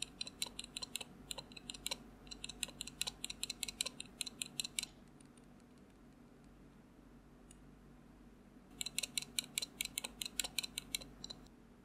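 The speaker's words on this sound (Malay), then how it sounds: "Ini contoh keyboard yang ada rattling dengan keyboard yang tak ada rattling untuk anda bezakan." Two bursts of brisk keyboard typing, one keyboard with rattling keys and one without, separated by a quiet pause; the keystrokes click sharply and steadily, with a faint hum beneath.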